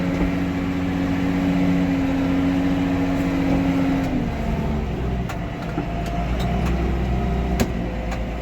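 Close by, a tractor engine drones steadily in a wet soybean harvest field where the machine is slipping. The low hum holds a tone that drops partway through, and faint clicks appear later.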